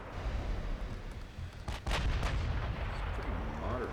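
Battleship main guns with 16-inch quad turrets fire in the naval game Ultimate Admiral Dreadnoughts, a heavy booming salvo rumbling over a constant low roar, one loud blast standing out midway.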